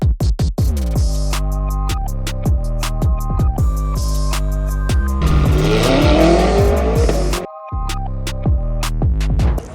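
Race cars on a rough drag strip, loud engines revving through repeated gear shifts with a burst of squealing tires midway, close and continuous apart from a brief gap.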